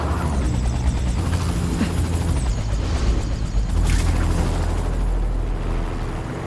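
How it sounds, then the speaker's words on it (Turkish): Helicopter rotor noise from The Amazing Spider-Man 2 video game: a steady loud low roar with whine, holding throughout, with a brief burst of louder rumble partway through. "Oh helikoptere de gittik."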